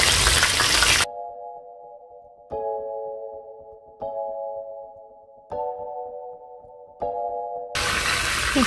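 Mojarra fish frying on a disco griddle: a loud, hissing sizzle opens the clip and returns at the end, and between them four identical ringing electronic tones repeat at a steady pace.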